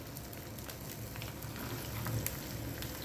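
Cooking oil heating in a pan before hotdogs go in, a quiet steady crackling sizzle with faint scattered pops and no talking.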